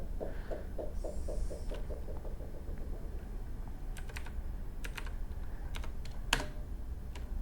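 Keys clicking on a computer keyboard in a quiet room, a quick run of light rhythmic taps followed by a few scattered sharper keystrokes, one louder press near the end, over a low hum.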